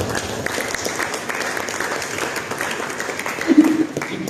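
A burst of clapping from a church congregation fills the room, with voices mixed in underneath.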